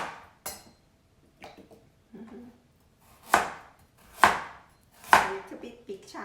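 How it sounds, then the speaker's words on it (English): A knife chops through a carrot into big chunks on a cutting board, with a few light taps followed by three sharp, loud, evenly spaced chops near at hand and no talking. "And then for the carrot, gonna do the same, so you can cut like that."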